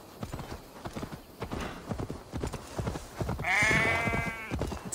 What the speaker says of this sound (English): It sounds like a sheep, and not a happy one.